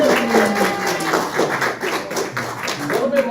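An audience at a Mystery Science Theater tribute event claps and cheers for the blue team in a steady, mid-level burst of applause, with crowd voices mixed into the clapping throughout.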